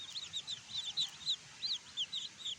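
Native chickens in a rural province give a string of high, quick, repeated chirping calls over a soft, low background, close and fairly clear, with no voices.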